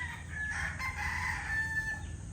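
A Casmino White rooster crows in a long, drawn-out call, fairly close and clear, over a steady background of other farmyard fowl.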